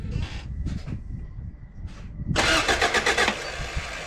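A Honda Civic with a swapped B-series engine gives a few short starter bursts, whirring and cranking, then catches and fires into a loud, rough idle with pulsing exhaust that stays running to the end.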